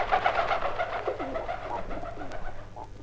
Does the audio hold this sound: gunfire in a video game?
no